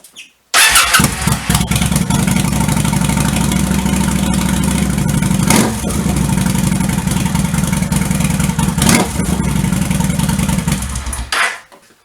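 A cold Kawasaki Vulcan 800 motorcycle engine starts and then idles, a loud, close, steady rumble lasting about eleven seconds with a couple of brief dips before it cuts off.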